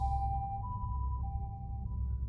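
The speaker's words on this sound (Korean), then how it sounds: "교실에서 기다리는 중 학교로 구급차까지 왔어." An ambulance siren sounds at a school, a steady two-tone wail alternating between pitches at moderate volume over a low background rumble.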